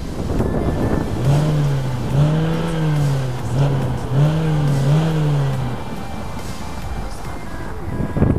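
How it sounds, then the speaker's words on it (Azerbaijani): A 2016 Hyundai Tucson engine revs up and settles back about four times in quick succession, a steady outdoor rumble with some wind buffeting the microphone. "Mənim dostum, bir dənə qaz ver arxada."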